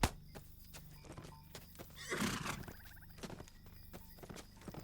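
A horse in the game LOTRO sounds a burst of neighing amid a steady, rhythmic clip-clop of hooves, close and clear, with no voices over it.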